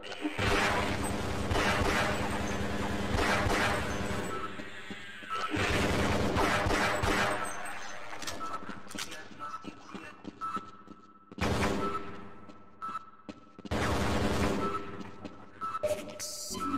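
Loud, dense combat in Half-Life against zombies: booming shotgun blasts and crashing impacts fire in heavy bursts, broken by a few brief lulls.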